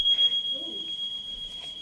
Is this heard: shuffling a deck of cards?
no